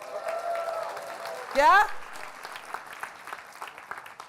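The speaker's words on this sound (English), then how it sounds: "I want to hear a big woo and clapping, clapping" A conference audience at an opening plenary session whoops and claps in a short, loud burst that rises briefly over a presenter's voice and then fades back under continued talk.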